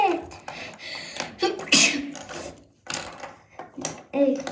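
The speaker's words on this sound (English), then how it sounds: "Just a sneeze." A single sharp sneeze bursts out among clattering, mechanical toy-like noises and a voice in a cartoon scene.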